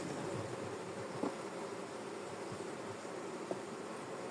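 Honeybees hum steadily around their hives at an apiary, a faint, continuous buzzing drone spread evenly through the air with a couple of soft knocks and no talking.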